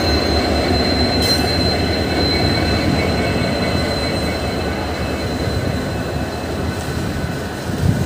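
Passenger train 05134 pulling out of Jaunpur Junction station, with steady rolling wheels on rails and a thin high wheel squeal running throughout, close and continuous, no talk.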